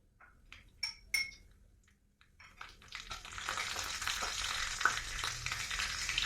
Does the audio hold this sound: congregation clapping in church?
no